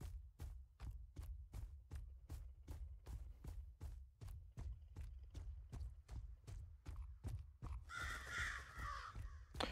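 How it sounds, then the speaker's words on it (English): A long, steady series of loud crow caws repeating at a regular pace, with a burst of other birdsong near the end. "Shut up, you damn birds."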